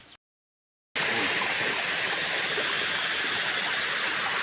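A shallow stream flows with a constant close, broadband rushing and gurgling of water, steady throughout after a short silent gap at the start.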